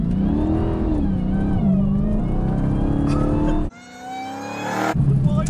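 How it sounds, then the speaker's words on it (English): A Dodge Demon engine revs hard with a high supercharger whine rising in pitch, cuts off abruptly, then surges again briefly near the end. "Supercharger. It's so good, just that noise."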